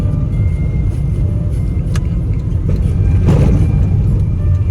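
A 2001 Honda City on the road, a steady loud engine drone and tyre rumble from inside the cabin, with a few faint clicks and a brief swell near the end.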